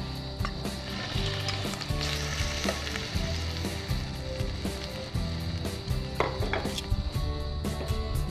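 Peeled shrimp sauté in a hot pan with a steady, loud sizzle and occasional clinks and scrapes of a utensil against the pan, close up throughout, no talk.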